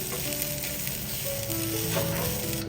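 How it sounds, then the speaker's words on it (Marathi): Grated coconut roasts in a hot pan, giving a dense steady sizzle and crackle with faint stirring, close and continuous for a few seconds with no talk. "त्याला भाजून घेऊया चांगलं परतून"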